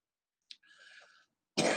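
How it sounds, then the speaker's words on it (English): A short cough bursts out alone, followed by a quieter breathy throat sound and then another loud harsh cough close to the microphone. "I'm really sorry about this coughing."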